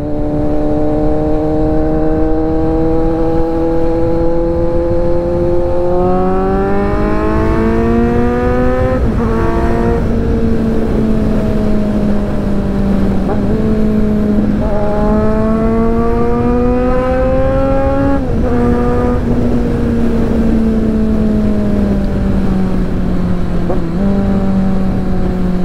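A Kawasaki Z900 motorcycle engine climbs through the revs several times while riding, with loud rising tones broken by brief gear-change dips over steady wind and road noise.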